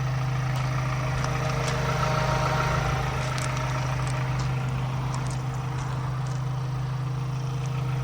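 A steady, low diesel engine of a 2021 Ford Transit van idles close by, an even, unbroken hum that holds at a constant level throughout with no voices.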